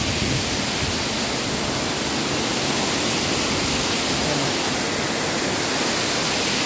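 Tago Falls in Porac pours as a dense, constant rush of white-noise water, loud and close, unbroken for the whole stretch with no voices.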